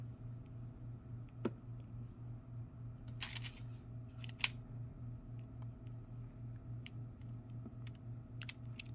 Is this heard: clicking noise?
yes